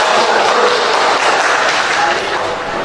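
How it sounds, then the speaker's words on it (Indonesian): Classroom applause for a student's correct answer, a dense steady clapping from a group of students lasting a few seconds at a fairly loud level. "Berikan aplaus untuk jawaban Dimas ya"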